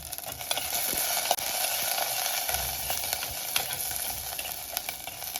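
Chili, ginger, onion and garlic frying in hot oil for tomato chutney: a loud, steady sizzle fills the whole stretch, broken by a few soft spoon knocks.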